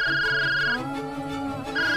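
A phone ringtone rings in an indoor domestic setting, a sustained electronic melodic tone that drops out briefly and returns, loud and close with no talk over it.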